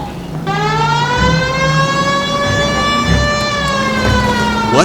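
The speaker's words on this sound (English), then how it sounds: "At least switch the siren on." A police car siren wails in the L.A. Noire video game, a loud, steady rising-and-falling electronic tone that runs continuously near and alone, with engine rumble underneath.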